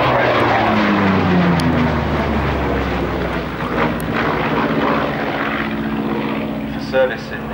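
A Pratt & Whitney R-2800 Double Wasp 18-cylinder radial engine on an F8F Bearcat drones steadily with a deep propeller throb, loud and close, easing slightly toward the end.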